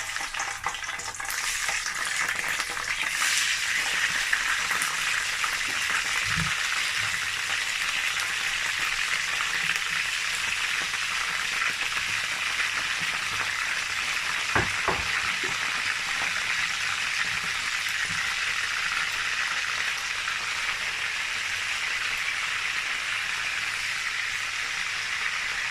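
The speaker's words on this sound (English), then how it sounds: "The oil is hot and I'm going to start frying my fish." Fish frying in hot oil for ogbono soup, a steady loud sizzle and crackle running throughout with a few brief clinks and pops, no voices.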